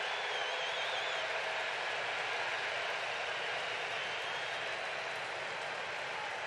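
A baseball stadium crowd at the 2023 NLDS Game 2 in Philadelphia sends up a steady, dense roar of cheering that holds without a break throughout, with no talk over it.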